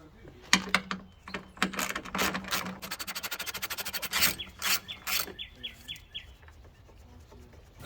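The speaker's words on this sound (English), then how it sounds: "All 3 of these bolts are 10mm, so let's get them removed." Ratchet wrench clicking in rapid bursts while loosening 10mm headlight bolts on a Ford F-150, close and fairly quiet, with rasping metal scrapes between the ratchet runs.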